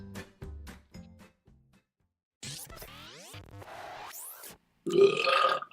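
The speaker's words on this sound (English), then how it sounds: "I'm cutting it right as you burp" A person lets out a long, drawn-out burp that rises and falls in pitch, heard close and fairly loud after a pause, between short murmured sounds.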